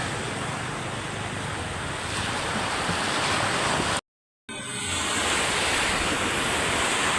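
Ocean waves wash onto a beach shore in a steady, loud roar of surf with wind noise, briefly cut out midway and then resuming.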